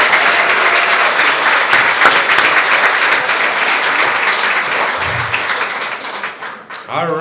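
A luncheon audience keeps up loud, dense applause for a speaker, holding steady before thinning out near the end, with a voice speaking over it briefly.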